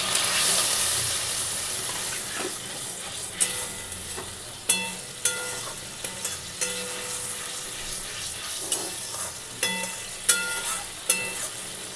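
Water poured into the hot oil of a Katla fish curry base fizzes with a steady, fairly loud sizzle, broken by sharp clicks and knocks of a utensil against the pan.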